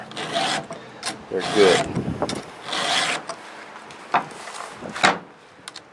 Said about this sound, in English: This is a peaceful exercise, sharpening your saw.